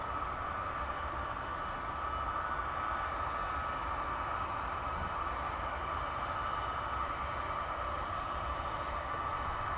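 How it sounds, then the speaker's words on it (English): Military aircraft engines at RAF Brize Norton roar as a steady, broad, sustained drone, heard from a distance and without any talk. "Can hear the engines now."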